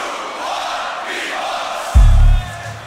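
A beatbox battle crowd roars a loud, short shouted response in unison, rising from a general audience murmur, with a host's voice present.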